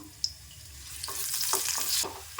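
Sliced shallots drop into a little coconut oil in a pan, a faint tap followed by a swelling hiss and sizzle with a few stirring scrapes, close and alone.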